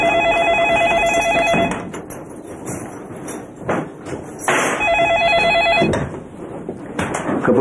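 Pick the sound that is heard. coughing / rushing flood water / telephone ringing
telephone ringing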